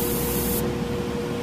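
A Harder & Steenbeck Grafo T1 airbrush spraying: a steady, close hiss of air and paint with a constant faint tone under it, continuous throughout.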